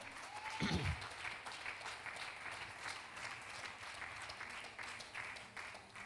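A church congregation applauds steadily, a continuous wash of clapping that carries on evenly and fades slightly at the end.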